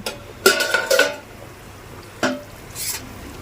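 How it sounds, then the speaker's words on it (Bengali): A lid comes off a cooking pot of simmering potol and potato on a low gas flame, giving a couple of short metallic clatters followed by a soft hiss of steam, close and fairly loud. "ঢাকনাটা খুলে নেব"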